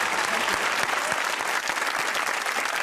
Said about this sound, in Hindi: यूनुस भाई के लिए तालियां होनी चाहिए